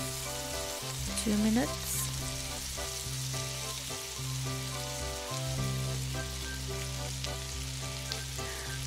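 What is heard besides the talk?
shrimps stir frying in a pan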